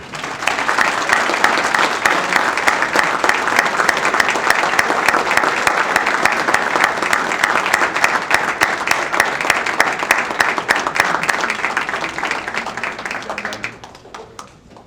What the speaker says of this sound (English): I invite my teammates and brothers to stand up and receive a big round of applause.